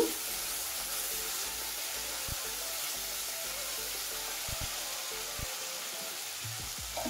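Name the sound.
spices being stirred while frying in a pan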